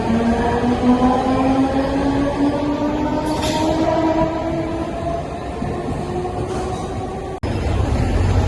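A train at Andheri railway station gives a steady, loud rumble with droning tonal hums throughout, briefly cut off near the end before resuming.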